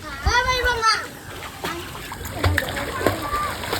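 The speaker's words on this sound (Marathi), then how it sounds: "तुम्ही पाण्यात उडी टाकले" Water splashes as someone jumps into a pool at a farmhouse on a family outing, close and fairly loud, with excited children's voices and talk around it.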